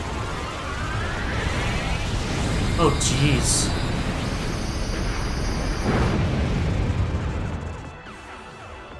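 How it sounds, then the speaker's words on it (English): A Dynamax Cannon attack against Eternatus in the Pokemon Shield video game, heard as heavy booming explosive blasts that swell and roll on for several seconds, with a brief spoken exclamation over them. "Dynamax cannon."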